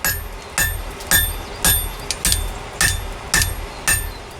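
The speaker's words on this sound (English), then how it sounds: "with all the welding complete, the shape of the knife can roughly be forged out" Hammer forging a San Mai steel knife billet to rough shape, loud ringing metallic blows in an even rhythm, about eight strikes each with a bright clink and short decay.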